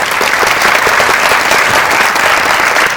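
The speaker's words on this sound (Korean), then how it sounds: "들려주신 전종서 배우께 박수 한번." Audience applause for actress Jeon Jong Seo at a Megabox COEX film talk event, a loud, dense, steady wash of many hands clapping that holds for the whole stretch without voices.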